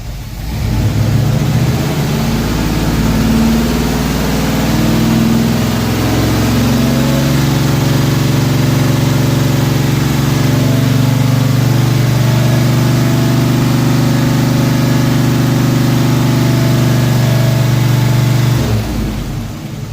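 A V8 Chevy engine idles steadily during ignition timing adjustment, a loud, close, continuous low rumble that holds for nearly twenty seconds before cutting off abruptly.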